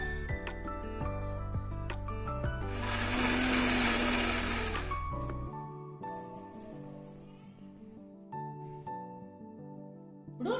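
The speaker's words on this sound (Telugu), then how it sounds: "ఇందులో కొంచెం గోరువెచ్చటి నీళ్లు వేసి మరొక్కసారి మిక్సీ పట్టుకుందాం" A mixer grinder blends tamarind and green chilli chutney with warm water, a loud whirring burst of a few seconds between quieter clinks and handling sounds, with background music.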